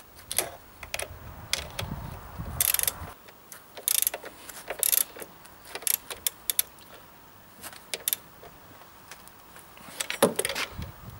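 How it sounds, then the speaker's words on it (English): A ratchet wrench works on the upper bolt while a crankshaft pulley is being changed, giving sharp, irregular clicks and short ratcheting bursts over a quiet background, with no talking. "Tighten the upper bolt."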